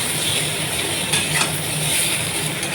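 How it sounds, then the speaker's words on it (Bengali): Potato and eggplant fry in fish-frying oil with black cumin, a steady close sizzle broken by the scrape of stirring. "আরও একটু নেড়ে চেড়ে নেব, তারপরে মশলাটা আমি অ্যাড করব।"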